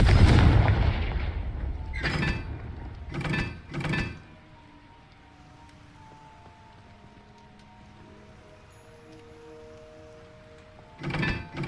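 In Hogwarts Legacy, the Confringo fire spell lands as a run of loud, booming blasts, three close together, then a long quiet stretch of faint tones, then another burst at the end.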